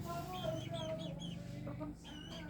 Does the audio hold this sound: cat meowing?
no